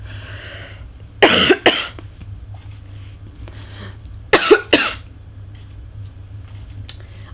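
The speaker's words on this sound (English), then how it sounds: "Sorry, my cough hasn't gone." A person coughs in two separate bursts, each a quick pair of harsh, close coughs, with quiet room hum in between and no talk.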